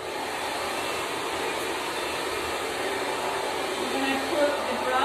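A hair dryer blows continuously at close range while curly hair is brushed straight, a steady airy whoosh holding level throughout with a faint voice underneath.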